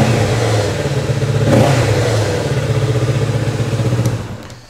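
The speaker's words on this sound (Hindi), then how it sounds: "एक बार इसकी आवाज़ सुनते हैं कि पैरेलल ट्विन 650cc का कैसा आवाज़ करता है।" A Kawasaki Ninja 650 with a 650cc parallel twin revs close by, a steady loud engine drone swelling in one throttle blip before dropping away at the end.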